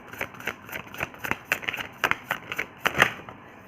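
Tarot cards are shuffled and drawn by hand, making a close, fast, uneven string of papery flicks and snaps with no voices.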